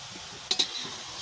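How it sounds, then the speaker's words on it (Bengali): Spice masala for a fish curry with cauliflower fries in a pan under a low sizzle, broken by two quick, sharp scrapes of a spoon close by. "এবার আমি কষবো খানিকক্ষণ কষবো। এখানে মশলাটা কষতে থাকবে"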